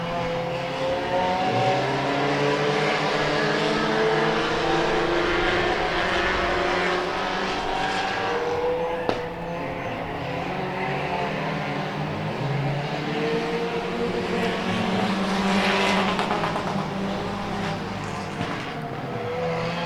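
Race cars battle through a heat race on a track, engines roaring continuously as several cars run close together, with a sustained loud drone rising and falling as they pass and accelerate.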